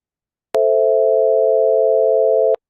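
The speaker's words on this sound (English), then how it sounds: "There's the minor chord made up of sine waves." A synthesized minor chord built from pure sine waves, a steady sustained electronic tone lasting about two seconds, loud and clean, with sharp clicks where it starts and stops.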